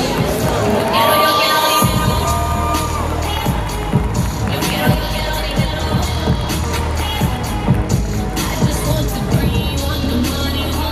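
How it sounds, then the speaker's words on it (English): Olympia audience cheering, shouting and applauding loudly at the 2021 IFBB Bikini Olympia awards, a dense continuous crowd roar with high shrieks and whoops throughout. "hands raised in victory, thunderous applause from the Olympia audience"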